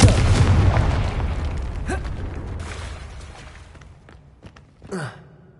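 Confringo fire blast spell exploding in Hogwarts Legacy: a loud, broad whooshing boom that decays over several seconds, followed by a few faint thuds and a short sharp burst near the end.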